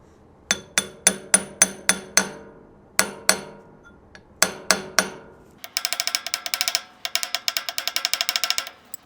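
Sharp metallic hammer blows strike a gearbox part on a Grizzly G4003 lathe, first as evenly spaced single hits in short groups, then as a quick run of lighter ringing taps, close and loud with no talking.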